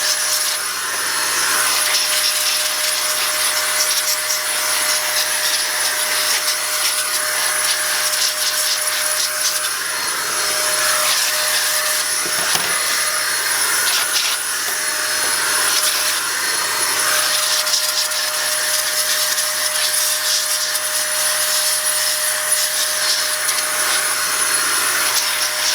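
A steady, loud hiss of compressed air blows ASIC miner parts dry after cleaning, continuing for about half a minute with brief rustling shifts as the nozzle moves, with no talk.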